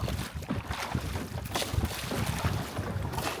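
Oars pulling a small boat through open water in a fast rowing sprint, with splashy strokes and steady wind noise throughout, no clear speech.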